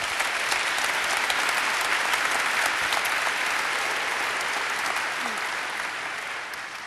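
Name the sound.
audience applause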